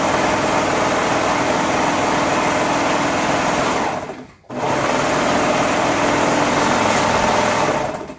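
A serger sewing machine runs steadily through fabric, a dense close whirring hum that cuts out briefly midway and then resumes at the same level.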